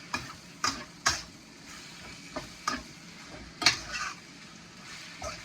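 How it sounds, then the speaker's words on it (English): Chicken and broccoli stir-frying in a hot pan, a low sizzle under sharp, irregular clacks of a utensil striking the pan, close and fairly quiet, no speech. "This recipe we want to really stir fry this heavily."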